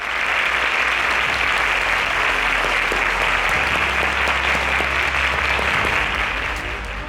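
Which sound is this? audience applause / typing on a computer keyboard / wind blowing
audience applause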